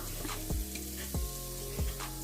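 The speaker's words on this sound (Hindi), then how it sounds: "जो मैंने प्याज काट के रखा है वो प्याज हम ऐड कर देंगे इसके अंदर" Chopped onions dropped into a pot for beef pulao give a steady sizzle and frying hiss, with a few soft stirring scrapes and low thumps recurring about every half second.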